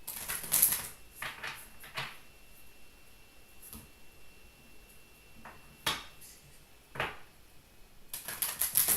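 A deck of tarot cards is shuffled up close in short, crisp bursts of riffling and slapping, with quiet pauses between the bursts and no talking.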